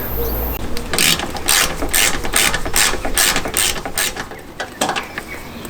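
A 10 mm ratchet socket wrench clicks in rapid bursts while loosening bolts during Suzuki V-Strom 800 fuel tank removal, stroke after stroke, loud and close, with a steady rhythmic cadence and no voices.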